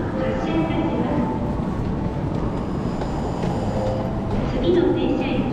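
A special rapid Airport train rumbles and hums as it pulls away from a Japanese station bound for Sapporo, with a public-address voice and other station noise in the background.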